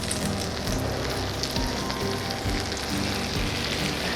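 Food laid in a skillet fries with a loud, dense, continuous sizzle and crackle, with no voices.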